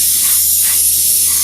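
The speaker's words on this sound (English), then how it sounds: "we can just make sure that the angle that we spray at is always in kind of an upwards angle from underneath" A steady, loud, close hiss of an aerosol spray can applying dark blue paint to a fallen-pillars miniature, one continuous burst with no talk.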